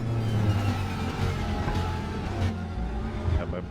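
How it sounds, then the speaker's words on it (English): GT3 race cars drive around the Sepang circuit in the racing game RaceRoom, their engines a continuous loud rumble and drone with slight swells as cars pass, filling the whole stretch. "those are GT3 cars."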